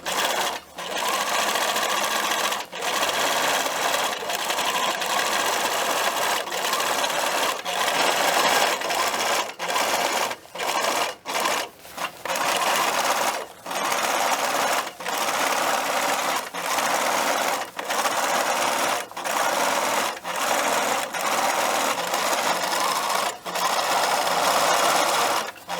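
A sewing machine stitches rows of elastic shirring on a dress, humming loudly and steadily nearby for a long stretch, with frequent brief pauses as it stops and restarts.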